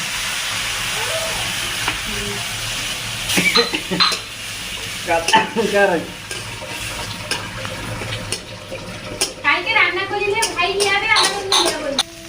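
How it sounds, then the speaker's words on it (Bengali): Onions frying in a pan for a fish and eggplant rezala hiss and sizzle as a little water goes in, with stirring and utensil clatters throughout and people talking over it. "হালকা পেঁয়াজ ভাজার পরে যাবে এবারে জল হালকা পরিমাণে।"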